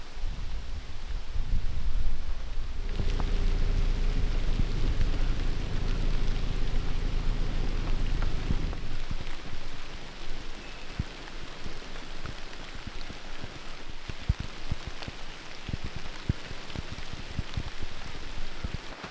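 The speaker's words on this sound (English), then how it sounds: "It finally started to rain as I was finishing up." Steady rain falls outside a century-old boiler room workshop, a dense continuous patter with a low rumble in the first several seconds, then lighter hiss with scattered close drops; no one speaks.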